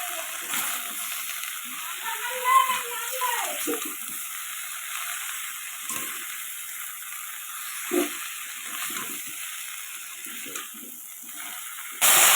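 Turmeric and cumin powder with salt being sautéed together with vegetables in a pan for a rohu fish curry, a soft steady sizzle with occasional stirring scrapes and a faint voice now and then.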